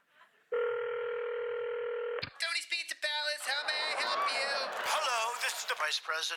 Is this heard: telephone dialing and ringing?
yes